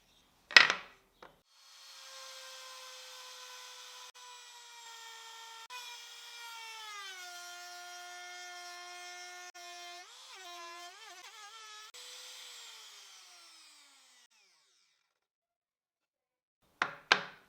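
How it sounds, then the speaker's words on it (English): A wood router fitted with a 12 mm U-groove bit, guided along a fence, cuts grooves in wood with a high whining tone that shifts in pitch as it bites, framed by sharp clunks at start and end. "Using the router with a 12 millimeter U-groove bit and this guide fence I made, I'll create a groove on each piece"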